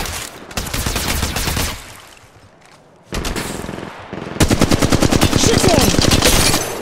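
Automatic gunfire from the mobile battle royale game Apex Legends Mobile, with loud rapid bursts of shots, a short pause, then a longer sustained volley at close range.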